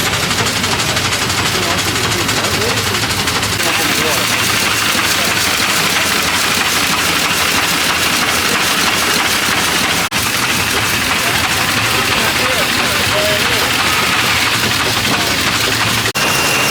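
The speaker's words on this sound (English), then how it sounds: "Here guys, pumping the water, going through the pump at the bottom, and then through this hose here on the ground" An antique fire engine at a threshermen's steam and engine show pumps water through a pump and out a hose laid on the ground, a loud, steady, dense rushing and rattling roar that fills the whole stretch without pause.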